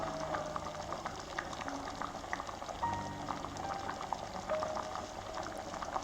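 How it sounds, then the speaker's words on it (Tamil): Prawn curry with tamarind water bubbles and simmers in a pot, with a steady soft gurgle and scattered small pops throughout, fairly quiet and close. "இப்போ நல்லா கொதிக்க விட்டுக்கோங்க"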